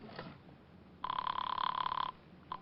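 An old-fashioned telephone bell rings in a vintage detective radio drama. One sustained, buzzy ring lasts about a second, and a brief second burst follows over faint background.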